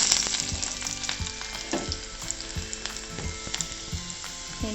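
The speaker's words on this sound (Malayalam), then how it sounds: "ശേഷം നമുക്ക് അതിൽ വെളിച്ചെണ്ണ ചൂടാക്കിയതിന് ശേഷം നമ്മൾ വെളുത്തുള്ളി ഇടുക." Garlic frying in hot coconut oil for chempin kai olan, a steady close sizzle with crackling bursts and occasional soft stirring clatter, no voices.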